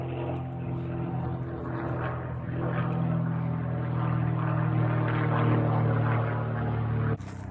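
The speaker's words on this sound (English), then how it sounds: "There's a plane." A propeller airplane passes over woods with a low, steady droning hum and buzzing harmonics, growing slightly louder toward the middle and end before cutting off abruptly near the close.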